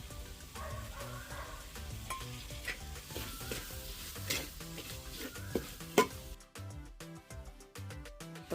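Two large thin-sliced tomatoes frying in a pan for a Malabar mutton dum biryani, a steady close sizzle broken by scraping stirs and light utensil clinks throughout.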